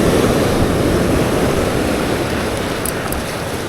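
Steady broadband rush of ocean surf with wind buffeting, continuous and fairly loud throughout, no voices.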